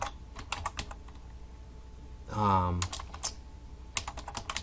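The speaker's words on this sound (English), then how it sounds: "if we go here and we type in label" Keystrokes on a computer keyboard while HTML code is entered, sharp clicks in short bursts at the start and end, interrupted by a brief tonal sound in the middle, close and moderately loud.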